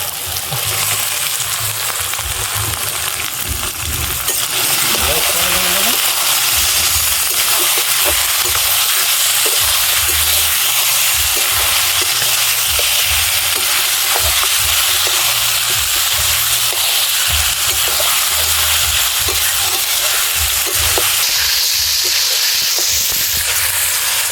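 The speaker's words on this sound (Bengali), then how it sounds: "মাংস দেওয়ার পরে আমি এখানে প্রায় 5 মিনিট ভেজে নিয়েছি।" Pieces of marinated goat meat fry and get stirred in a pan with tomato, a loud continuous sizzle with steady scraping and stirring strokes throughout, no voices.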